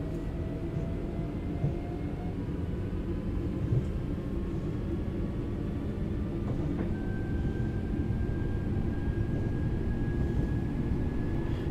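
Simulated train running on the Glossop Line toward Manchester Piccadilly in Train Sim World 3, a continuous low rumble of wheels and motors with rising whining tones, steady and close throughout with no talk.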